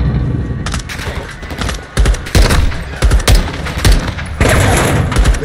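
Dense automatic gunfire and heavy bursts from a Call of Duty Modern Warfare II campaign firefight, loud and nearly continuous for several seconds with sharp shot transients and booming impacts.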